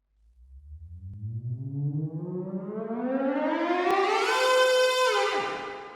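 A synthesizer pitch riser sweeps smoothly upward across four octaves, its filter opening fully, brightening and swelling in loudness, then cuts off abruptly near the end.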